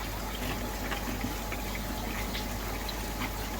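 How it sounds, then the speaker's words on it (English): Water running into a pond filter container, a steady, dense rushing and trickling wash that stays constant throughout with no voices. "Just going to get a bit of water in there."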